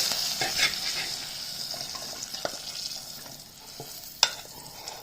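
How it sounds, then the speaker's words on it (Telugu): Green chillies frying in a pan, a soft continuous sizzle with occasional small pops and a sharp clink near the end. "పచ్చిమిరపకాయలు అయితే మస్తు ఫ్రై అయినాయి"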